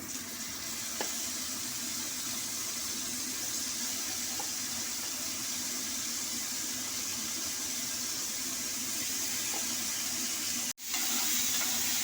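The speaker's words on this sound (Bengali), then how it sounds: "পনিরগুলিকে আমি একদম হালকা করে ফ্রাই করে নেব" Paneer cubes frying lightly in a pan for a milk gravy dish give a steady, soft, hissing sizzle that stays close and even, broken only by a brief clunk near the end.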